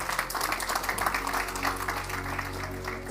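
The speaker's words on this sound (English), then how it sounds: "Please give him a warm round of applause." Audience applause at a corporate sustainability report launch event in Kenya, steady and fairly loud throughout with a low hum underneath, welcoming a Standard Chartered Bank executive to the stage.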